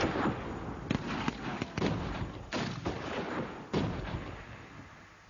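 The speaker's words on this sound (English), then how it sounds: "Women and children fell victim to Boer shelling and rifle fire." Shelling and rifle fire from the Boer War, a stretch of irregular cracks and dull booming blasts over a rumbling background, fairly faint and distant-sounding, with no voices.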